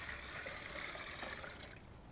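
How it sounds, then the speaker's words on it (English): Thirty-two ounces of water pours from a pitcher into a Vitamix Turboblend or Omega BL630 commercial blender jar, a steady splashing rush that softens slightly toward the end. "we got 32 ounces of water in both these pitchers here. We're gonna pour that into each of the blenders."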